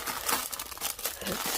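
Plastic bag packaging around two issues of a tarot card magazine part-work crinkles and crackles continuously at close range, busy rustling with no talking.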